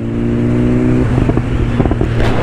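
A 2022 BMW S 1000 RR motorcycle engine holding a steady loud idle note, then blipped in several sharp revs that rise and fall close by.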